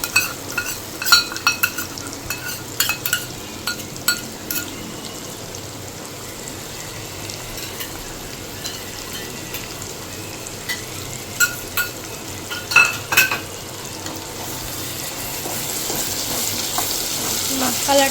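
Mutton curry fries in a pan with cumin and dried chili paste, giving a constant loud sizzle, broken by sharp metallic clinks and scrapes of a spoon stirring against the pot.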